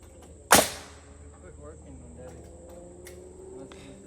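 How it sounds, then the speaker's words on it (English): A single sharp nail-gun shot fires a nail into a floor joist on a tiny cabin build. It is a loud, near crack followed by quiet background noise and faint distant voices. "then we're getting the nail gun and going ahead and nailing those into place"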